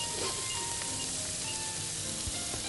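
Chicken wings and gizzards fry with onion in a hot pan, giving a steady close sizzle with crackling pops and no voices.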